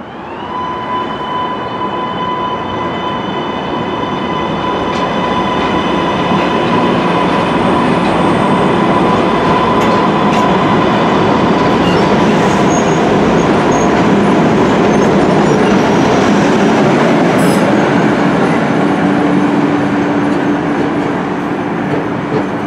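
A Boston MBTA subway train rumbles loudly and continuously up close, with faint steady whining tones and clattering wheels throughout.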